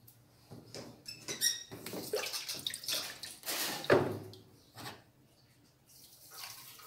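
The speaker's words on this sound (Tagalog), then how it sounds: "Parang madami ng tubig ah." Water splashes and pours close by as laundry and a uniform are rinsed by hand with soap, in uneven bursts that swell and fade over several seconds, with no talking.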